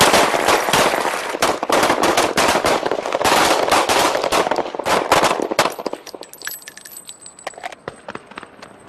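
Sheriff's deputies at a shooting range fire a loud, rapid volley of overlapping gunshots for about six seconds, and then a few scattered, fainter shots trail off.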